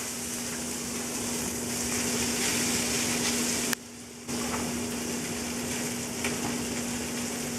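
Mushrooms hit a hot pan of pasta sauce and set off a steady, bright sizzle that crackles continuously, with a brief dip partway through before the frying hiss resumes.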